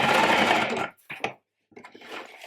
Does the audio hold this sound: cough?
no